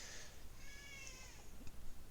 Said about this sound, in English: That's my cat if you can't hear it.